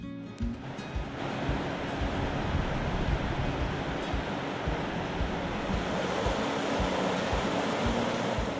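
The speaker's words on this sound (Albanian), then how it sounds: "E kur kësaj jashtojmë zhurmën e lumit që kalon në këtë fshat" A river flowing through a lightly snow-dusted Albanian village gives a constant broad rushing roar, steady and fairly close, with some wind buffeting and no speech.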